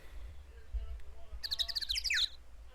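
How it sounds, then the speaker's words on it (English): Synthetic bird chirps from the Phoenix Wright video game, a quick run of bright, rapid tweets lasting under a second, heard over a low background hum. "fake bird noises are aplenty"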